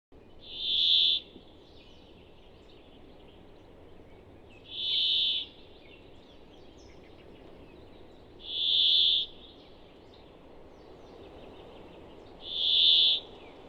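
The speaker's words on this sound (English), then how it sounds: "The brambling has several nasal vocalizations." A brambling gives drawn-out nasal calls, four evenly spaced buzzy wheezes about four seconds apart, clear and moderately near over a quiet outdoor background.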